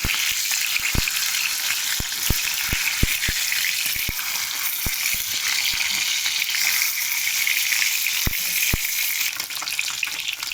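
Rohu fish frying in a pan, a loud bright hiss of oil with scattered sharp pops and crackles spread across the stretch, no voices.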